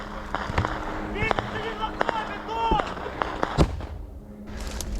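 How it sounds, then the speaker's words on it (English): Explosions in a trench combat video game go off as a run of sharp, thumping blasts every second or so, with soldiers' voices shouting over and between them. "Every step he takes, there's another explosion."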